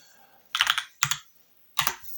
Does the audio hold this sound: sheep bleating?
no